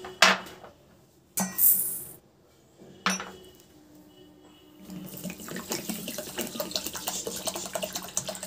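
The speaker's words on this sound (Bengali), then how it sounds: "ভালো করে চালটাকে ধুয়ে নেব।" Gobindobhog rice being washed in a bowl under running tap water: a few sharp clinks and splashes at first, then a steady close rush of water filling and swirling in the bowl.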